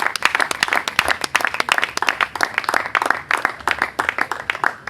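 Church congregation clapping in steady rhythmic unison, a dense, lively patter of many hands repeating at a quick even beat throughout, fairly close and loud.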